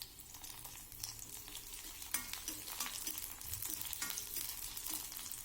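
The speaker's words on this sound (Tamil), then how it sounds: "இந்த பூண்டு வரமிளகாய் நல்லா வதங்கி வந்துருச்சுங்க." Garlic and dried red chilies, added after onions, sauté in oil for peanut chutney, a faint, continuous crackling sizzle with scattered small stirring scrapes and no voices.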